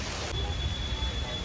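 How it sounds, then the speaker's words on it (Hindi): Heavy rain suddenly begins falling at an outdoor cricket practice ground, a steady, dense wash of loud, continuous rainfall with a low rumble underneath, no talk audible. "अचानक से हो गई है बारिश शुरू, दिख रही है कितनी तेज़"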